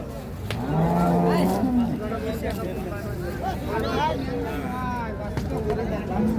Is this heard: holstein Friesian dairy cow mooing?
yes